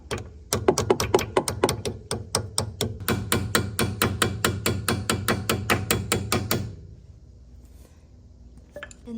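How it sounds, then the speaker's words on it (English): Rapid, evenly spaced hammer blows drive a brake pad pin through the caliper of a BMW M2, about two dozen sharp metallic strikes close up over six seconds, then quiet. "we're just gonna hit it in the back with the hammer so that it shoots all the way through"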